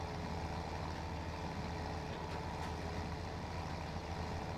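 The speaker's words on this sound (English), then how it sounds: "we need to get this tractor right here doing its job" A tractor engine in Farming Simulator 17 drones at a steady idle, a constant low mechanical hum that stays even and moderately loud with no voices over it.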